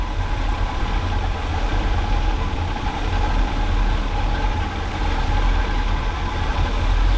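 A 1979 GMC Vandura with an Edelbrock carburetor idling in gear at around 700 RPM, a steady, loud, close low rumble with no break.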